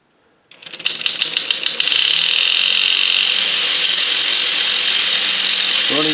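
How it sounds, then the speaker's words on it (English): A Dremel rotary tool drives the gear motor of a James Bond tin toy car after a filed gear, starting from silence into a loud, steady mechanical whir with a fast ratcheting gear chatter that runs continuously without talk. "I got Dremel fixed on again to run the motor because I've been filing this gear in here."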